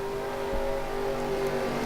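Race car engine in a stock car racing video game at Daytona, a steady droning hum with a brief swell as the car drives by, fairly loud and continuous with no talk.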